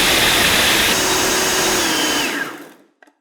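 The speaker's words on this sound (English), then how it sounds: "we want to turn our food processor onto high just to grind up the almonds first" A food processor running on high, grinding almonds: a loud, steady motor roar with a whirring grind that holds for over two seconds, then spins down and cuts off, followed by a couple of faint clicks.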